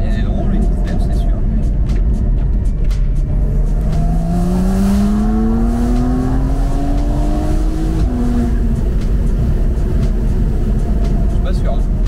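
Porsche 992 Carrera 4 with a stage 2 tune pulling hard under acceleration: a loud engine note rises steadily through the revs, drops sharply at a gear change and climbs again, with voices talking over it.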